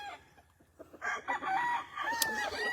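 A stray-comb rooster on a farm in Magdalena, Laguna crows once nearby, a short rising then wavering call with a few faint clucks before it, with no one speaking.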